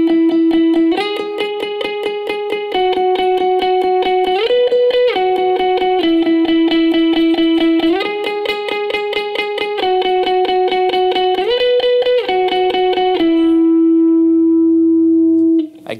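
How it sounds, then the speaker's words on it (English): Clean electric lead guitar picking sustained single notes, the fifths of the chord changes, under light reverb and delay. Each note rings for about a second or more in a steady rhythm, with a final long note fading out. "The lead guitar will be following those changes, but just playing the fifths of those chords."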